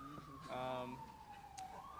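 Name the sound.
siren in the background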